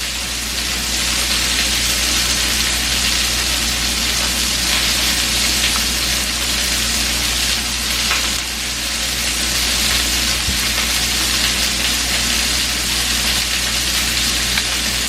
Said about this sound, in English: you probably hear the thing because I'm cooking more burgers